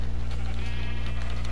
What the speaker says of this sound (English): Oh my lord, there's a sheep right there.